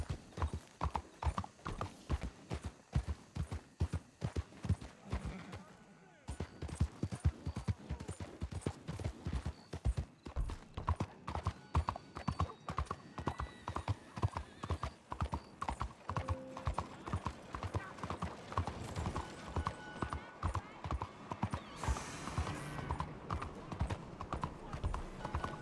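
Horse hooves clip-clop steadily in Red Dead Redemption 2 as the mount walks through the city of Saint-Denis, a brisk rhythmic stream of close, loud hoofbeats with a brief pause before resuming, and someone talks over parts of it.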